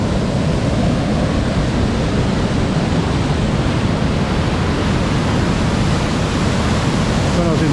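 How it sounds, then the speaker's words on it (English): Heavy rain-swollen waterfall at Finch Hatton Gorge roars as a steady, loud, dense broadband rush of falling water, close by and unbroken throughout. "we've had extra rain, so it's got a lot more water coming over the falls"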